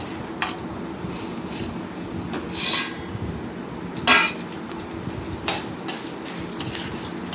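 Urad dal tossed in a pan with chana dal gives occasional scrapes and metallic clinks over a steady low frying hiss, fairly quiet overall.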